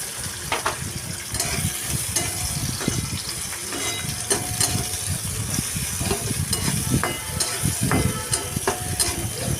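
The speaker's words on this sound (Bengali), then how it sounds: "এখানে আমি পেঁয়াজটাকে ভালো করে ভেজে নিলাম" Onions fry loudly in a pan, a dense crackling sizzle broken by repeated stirring scrapes and small pops, with no voices.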